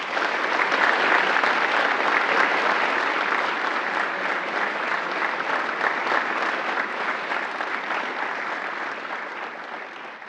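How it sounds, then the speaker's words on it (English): An audience at a 2022 ROTC commissioning ceremony gives a sustained round of applause for the cadre, dense hall-filling clapping that holds steady and slowly tapers near the end, with no speech over it. "join me in a final round of applause for the cadre who enabled this program to successfully"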